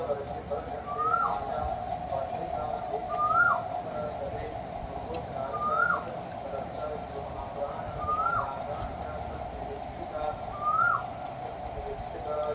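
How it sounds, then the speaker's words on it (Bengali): An Asian koel calls repeatedly in a rising two-note cuckoo pattern, about every two to three seconds, at a moderate distance over a steady background hum during a summer morning. "কোকিল ডাকছে কু কু করে।"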